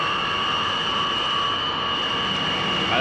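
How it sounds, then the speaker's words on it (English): A 1960 jet aircraft at St. John's spooling up for a rolling takeoff, a loud steady engine roar and whine heard from the cockpit, building slightly toward the end. "you're clear for takeoff"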